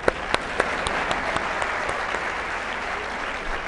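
A studio audience applauds on a television talk show, a dense steady clapping of many hands with a few sharp nearby claps early on, sustained at even loudness throughout without speech.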